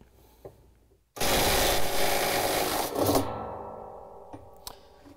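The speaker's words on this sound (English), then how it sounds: "we're going to grab the tub and hold onto it and loosen up the nut" A wrench breaking loose the hub nut on a GE washing machine tub: a sudden loud grinding, ratcheting burst that runs for about two seconds and fades, followed by a few sharp metallic clicks in a quiet room.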